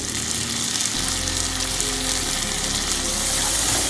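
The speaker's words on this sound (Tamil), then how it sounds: "இப்போ இந்த ஆயில்லையே ஆனியன் போட்டுக்கோங்க. தக்காளியும் போட்டுக்கோங்க." Onion and tomato go into hot oil, bringing a loud, continuous close-up sizzle that swells after the first second and holds steady to the end.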